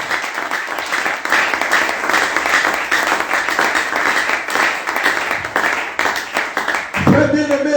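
Church congregation applauding and cheering together during a Sunday service, sustained dense clapping from a large crowd in a reverberant hall, with a voice cutting in at the very end.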